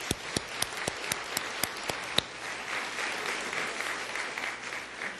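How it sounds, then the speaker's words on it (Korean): A church congregation breaks into steady applause, a few sharp nearby claps up front blending into a sustained wash of clapping from a crowd. "우리 박수 한번 격려하시죠."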